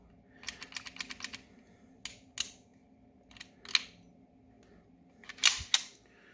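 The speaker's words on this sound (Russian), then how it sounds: "Сейчас вот на предохранитель его поставил." A Bruni 92 starter pistol, a Beretta 92 replica, gives sharp, close mechanical clicks as its safety and slide are worked: a quick run of clicks, then a few separate snaps and a final double click in a quiet room.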